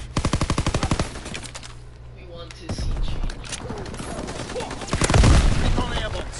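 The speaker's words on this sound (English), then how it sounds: "Fighter pilot inbound. Strafing the target." A fighter plane strafes in a WW2 video game, opening with a rapid burst of machine-gun fire, followed by further gunfire, a heavy boom and rumbling action, while a voice talks over parts of it.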